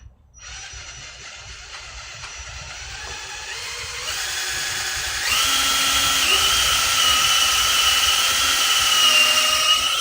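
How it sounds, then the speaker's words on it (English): A power drill bores into a block, its whine rising in pitch and intensity in stages as the bit bites deeper, a steady continuous grinding drone throughout. "taking a power drill to this block"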